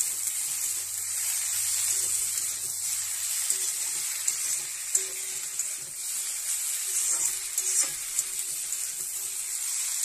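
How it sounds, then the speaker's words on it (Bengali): Malabar spinach fries in a pan with a loud, steady sizzling hiss, and faint stirring scrapes rise and fall beneath it. "পুঁই শাকটা দেওয়ার পর ভালোভাবে নাড়াচাড়া করে নিতে হবে।"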